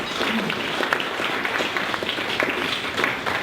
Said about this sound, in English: let's give Don Phillips a big round of applause and welcome him